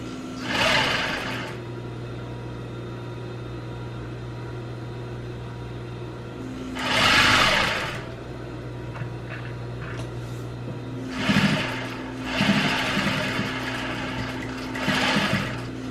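An electric sewing machine stitching fabric for a triangle bikini top runs in several short bursts of rapid whirring, close and clear, separated by pauses with a steady background hum.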